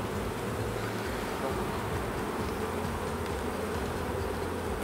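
A steady, dense drone of many honey bees buzzing together in a hive, close and continuous, with no pauses.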